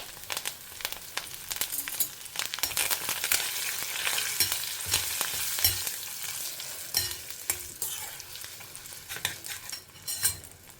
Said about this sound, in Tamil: இப்போ கடுகு வெந்தயமும் பொரிய ஆரம்பிச்சுடுத்து